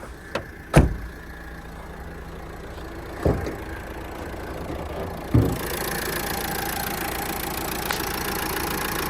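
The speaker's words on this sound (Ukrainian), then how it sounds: "Двигун працює ідеально" A Renault Megane engine idles steadily with the hood open, a low, even hum heard close up, interrupted by a few dull thuds and clunks early on.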